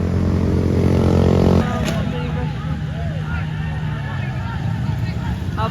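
A motorcycle ridden on a road roars loudly up close for about a second and a half, then drops to a steadier, quieter engine drone with wind rush for the rest.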